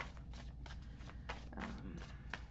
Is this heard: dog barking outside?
no